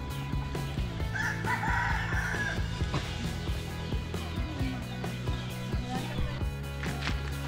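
A turkey gobbles in a highland Lawa-Karen village in Thailand, a bubbling call rising over a busy background of other fowl and farmyard noise.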